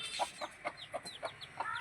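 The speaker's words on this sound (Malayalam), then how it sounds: "നമ്മുടെ കോഴികൾ കാണിച്ചു കണ്ടോ" Several chickens cluck in short, separate bursts, each a little under half a second apart, fairly close and a little faint against a quiet rural household background, with no talking.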